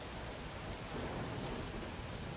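Heavy rain in an audiobook sound effect, a dense, loud, continuous broadband patter and hiss with a low rumbling undertone and no pauses.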